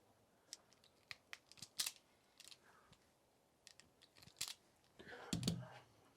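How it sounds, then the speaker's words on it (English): Scissors or cutters trim excess wire for a spade connector with a few scattered close snips and clicks. A louder rustling cut comes near the end. "I've actually cut that a little bit too long, so I'm going to trim it off."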